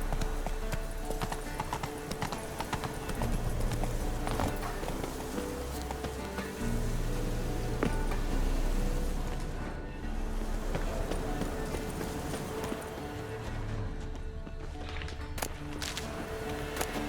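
Horse hooves in The Witcher 3 game, a steady rapid clip-clop running throughout at moderate loudness over a low continuous background drone.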